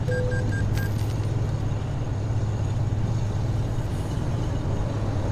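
A Volvo truck engine in Euro Truck Simulator 2 drones loudly at high revs, a steady low mechanical hum held constant, with a couple of brief electronic beeps near the start.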